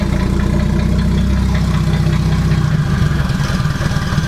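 A Toyota Supra MK4 engine runs steadily with the throttle held open, producing a loud, continuous low rumble that shifts and roughens slightly toward the end, with no talk over it.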